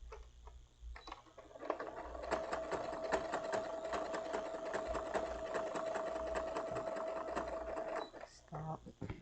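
Sewing machine stitching fabric, a steady rapid mechanical chatter with a whining motor tone running for several seconds, starting and stopping with quiet gaps on either side.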